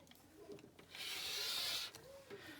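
Scissors or a cutter slicing through fabric squares for a sewn bowl cozy: one close, steady rasping cut lasting about a second, with quiet room noise before and after and no talking.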